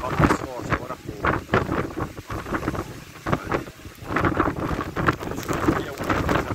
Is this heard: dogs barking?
no